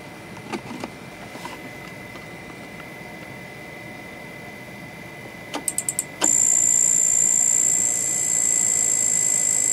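Electrostatically powered magnetic levitation motor rotor spinning with a steady high whine, with a few sharp clicks before a loud continuous high-pitched tone, likely from a strobe tachometer, takes over.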